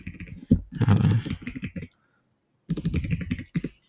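Fingers type on a computer keyboard in two quick clusters of clicks and taps, separated by a short silent pause, close and fairly clear with no talking.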